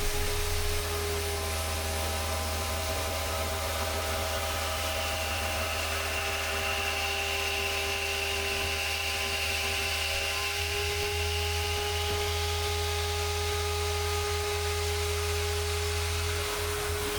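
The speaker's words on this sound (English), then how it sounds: "We start by surfacing the stock with a 2-inch face mill with some bright APKT inserts to get a clean, shiny surface" A milling machine surfaces metal stock with a 2-inch face mill fitted with APKT inserts. It makes a steady, close mechanical whine with a low motor drone, running continuously throughout.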